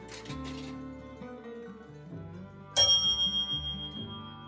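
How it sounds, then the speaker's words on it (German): A bell rings in the Railroader train video game: a bright, sharp ding with ringing decay near the middle, over a low rumbling game backdrop and soft tonal sounds. "Da klingelt's."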